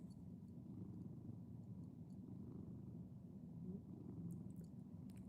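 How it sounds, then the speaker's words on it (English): A cat purrs loudly and continuously, a low steady rumbling close to the listener, with faint clicks near the end and no talk. "he purrs so loud, like you could literally hear him purring"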